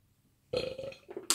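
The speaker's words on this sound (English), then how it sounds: "You burped." A single loud, close burp rolls out for most of a second, ending with a short sharp burst of sound.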